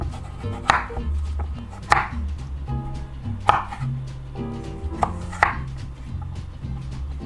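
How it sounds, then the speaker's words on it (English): Butternut squash cut into quarter-inch cubes, a knife striking the board about five times in uneven chops, close and crisp over a low musical backing. "We're gonna take the skin off, chop it up into 1/4-inch cubes."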